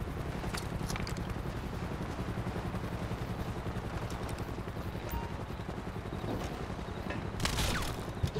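Gunfire in the video game Grand Theft Auto V: a continuous fusillade of fairly faint, rapid shots with steady rhythmic pops over a background rumble, and a few sharper cracks near the end.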